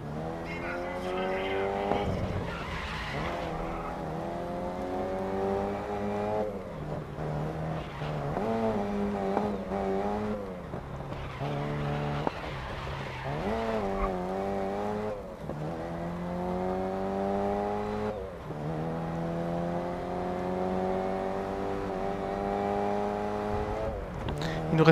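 A car drifts through GRID Legends open-wheel races, its engine note rising and falling in repeated sweeps under continuous tire squeal and skidding, fairly loud and steady, with no talk over it.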